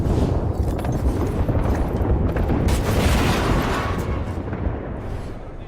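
A frag grenade goes off in a video game, bringing a loud, dense, rumbling blast with heavy low-end roar that sustains for several seconds and slowly fades, with no clear talking over it.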